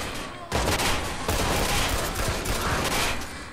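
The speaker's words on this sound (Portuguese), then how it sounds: "tiro na cabeça aí" A dense, continuous burst of gunfire in the video game Watch Dogs erupts after a brief lull, rapid shots merging into a loud rattling barrage that holds for about three seconds.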